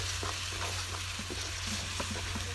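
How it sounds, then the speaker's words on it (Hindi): Goat meat curry masala frying in a pot while a spoon stirs it, a steady close sizzle broken by soft scraping strokes, with no voices. "अभी बढ़िया से भून दो कम से कम आधा से 1 घंटा तक"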